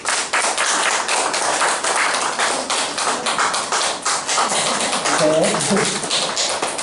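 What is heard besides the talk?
church congregation applauding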